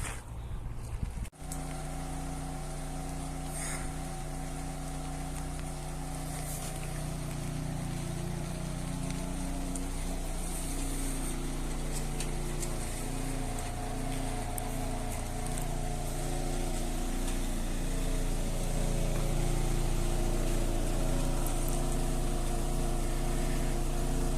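A car steadily tows an open, untarped galvanized URSA trailer about 1.5 m wide, giving a continuous low engine and road drone throughout with no talking.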